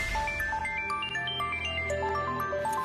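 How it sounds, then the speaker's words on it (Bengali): A mobile phone ringtone plays a bright, repeating electronic melody of short stepped notes, steady and moderately close, with no voices over it. "ওনার তো ফোন বাজছে"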